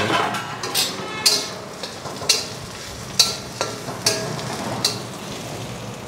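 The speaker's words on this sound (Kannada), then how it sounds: "ಇವಾಗ ಇದೆಲ್ಲ ಹೋಲ್ ಸ್ಪೆಷಲ್ಸ್ ಒಟ್ಟಿಗೆ ಹಾಕೊಂಡ್ಬಿಡ್ತೀನಿ." Whole spices fry in wood-pressed oil for chicken biryani, a steady sizzle broken by regular, roughly once-a-second stirring scrapes of a ladle in the pan, close and moderately loud.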